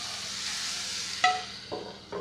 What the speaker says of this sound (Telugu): మనం రోట్లో దంచుకున్న టమాటో ముద్దను దాంట్లోకి వేసుకోవాలి